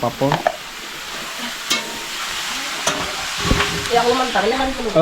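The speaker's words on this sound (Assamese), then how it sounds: "পাপৰ ভাজিব।" Papad frying in hot oil at a home meal, a dense steady sizzle with scraping stirs and brief background voices.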